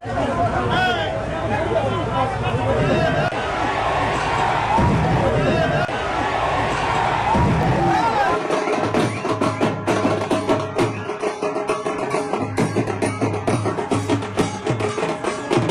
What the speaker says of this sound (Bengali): অসংখ্য মানুষের কিন্তু ভিড় এই মুহূর্তে দেখতে পাচ্ছি